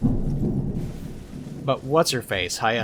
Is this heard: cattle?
no